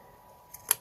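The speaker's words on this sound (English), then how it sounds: "And then I'm just going to take my scissors" Scissors snip through excess material on a lace double pocket, two quick crisp cuts close by, one faint and one sharper, in an otherwise quiet moment.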